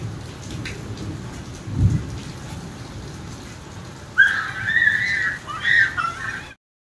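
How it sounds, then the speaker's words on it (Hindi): Steady rain pours throughout, with a low rumble of thunder early on and a bright whistling tone rising over the downpour later. "अभी जस्ट बारिश आ रही है"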